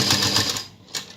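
A sewing machine stitches the corner of a blouse neck in a short, close burst of rapid needle clatter that stops abruptly, followed by a brief mechanical click.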